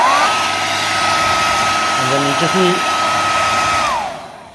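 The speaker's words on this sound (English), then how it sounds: "if you don't have a heat gun, you can use a hairdryer" A hairdryer heats the glue of a bumper protector on a Xiaomi M365 electric scooter, giving a loud, steady whooshing blow that runs for about four seconds before it cuts off. Someone talks briefly over it.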